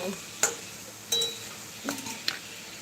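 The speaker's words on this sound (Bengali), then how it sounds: "আমি রান্না করছি" Spices frying in a pan while being stirred, with a faint steady sizzle under several sharp clinks and scrapes of a utensil against the pan, close by.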